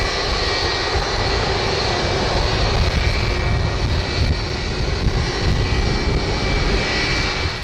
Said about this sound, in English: An Airbus A330 had an unexpected issue while taxiing.